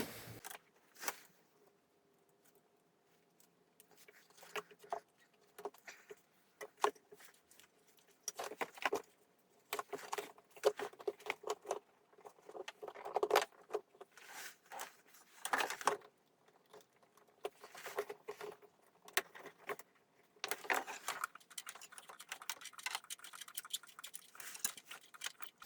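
Wire and connector are handled on a VW-group Euro 6 TDI engine during cambelt work, giving faint, sparse clicks, rustles and plastic snaps close by in an otherwise quiet workshop.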